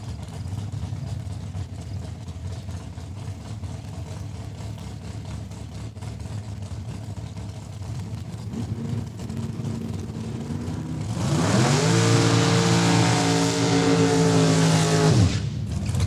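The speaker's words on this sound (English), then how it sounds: "warming up the rear tires" A drag race car idles with a rough, pulsing rumble, then erupts into a loud, high-revving roar as it warms up its rear tires before cutting off. Saskatchewan International Raceway in Saskatoon.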